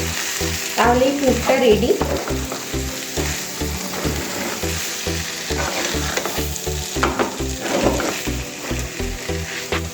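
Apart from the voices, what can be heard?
stirring chicken tikka roll filling with salad in pan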